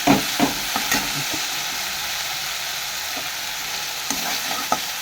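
Vegetarian curry being sautéed and stirred in a pan, a steady close sizzle with scattered scrapes and clinks of the spoon, loudest near the start and again toward the end, with no talking.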